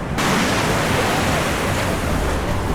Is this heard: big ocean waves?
yes